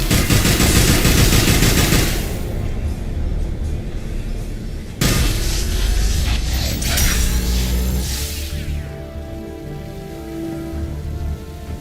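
Dense, loud bursts of rapid gunfire from the video game Mass Effect 3, heavy at the start and again midway, then fading into scattered shots and lighter clatter near the end.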